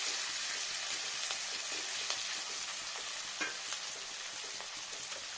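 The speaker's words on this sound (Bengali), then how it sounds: "দিয়ে নিলাম পেঁয়াজ আর দিয়ে নিচ্ছি আদা বাটা আদা পেঁয়াজ" Onion and ginger paste fry in a pan of oil for a fish curry, a continuous bright hiss of sizzling with faint occasional ticks and pops, fairly quiet and steady throughout.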